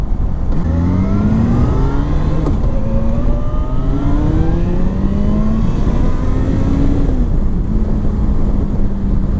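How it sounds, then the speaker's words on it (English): A 2005 Yamaha FZ6 motorcycle engine revs hard and climbs through the gears, its exhaust note rising and dropping repeatedly over loud, constant wind rush. "I guess the exhaust isn't that quiet. When you get on it, it does make a nice sound."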